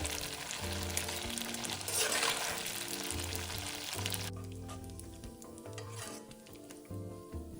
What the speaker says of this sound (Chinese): 油炸至表面金黄色后即可离火